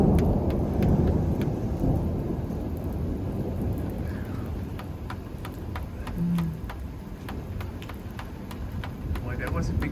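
Thunderstorm with rain in the Pyrenees mountains: rain patters steadily while a low roll of thunder rumbles in the distance.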